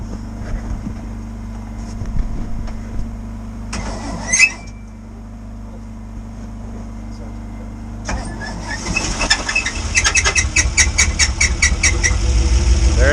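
A boat's engine cranks and starts after a few tries, then settles into a steady, loud, rumbling run close by, with talk heard over it.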